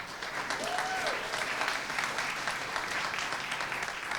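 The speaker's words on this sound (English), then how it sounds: "Let's give a round of applause for that." Applause at a city mayor's announcement of a food action plan update, a sustained, fairly soft crowd clapping that continues evenly for about four seconds, with a short voice near the start.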